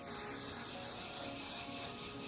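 A can of 505 temporary spray adhesive hisses in one continuous, close burst onto fusible fleece, a steady broadband spray that holds at even loudness throughout with no talking.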